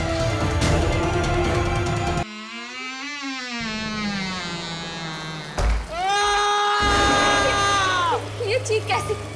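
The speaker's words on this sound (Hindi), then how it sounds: "ये चीख कैसे?" A scream in a Hindi horror drama rises and wavers through a long strained cry, then a second sharper shriek follows amid eerie effects, loud and close.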